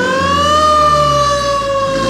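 A fire engine siren wails steadily, loud and close, with a low truck engine rumbling underneath, as firefighters leave the site of a collapsed grain silo.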